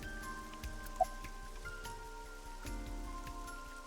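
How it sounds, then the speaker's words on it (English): Steady rain falling on surfaces outdoors at night near a park, a soft continuous patter with scattered drip ticks and a low background hum, no voices. "This rain is awful, huh? It's unusual for this time of year."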